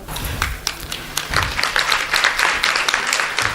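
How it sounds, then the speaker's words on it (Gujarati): An audience at a Mahila Sangh women's association gathering in Gujarat applauds as a guest is welcomed onto the stage, with sustained, fairly loud clapping that builds into a dense wash of many hands. "એકવાર જોરદાર તાળીઓથી વધાવી લઈએ આપણા મહિલા સંઘના પ્રમુખ શ્રી પૂનમબેન ભગતને"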